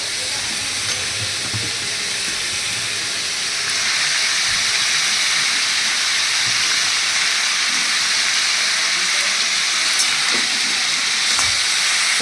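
Jackfruit and potato fry in a wok, a loud, close, continuous hiss and sizzle that swells noticeably a few seconds in as the potato goes in, then stays dense with faint stirring knocks underneath.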